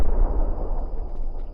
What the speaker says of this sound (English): Like a meteor or whatever that is.